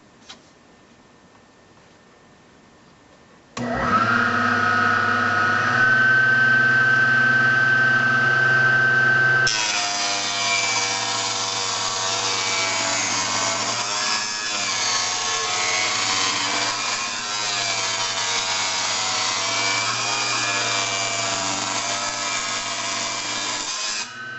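A power saw rips a resawn wooden board to 2.25-inch width for a chessboard build: the motor spins up, then a loud, sustained cutting roar runs steadily for about fifteen seconds without talk.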